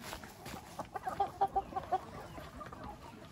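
Chickens cluck in a short burst of several distinct calls while being fed outdoors, fairly close, over a quiet background.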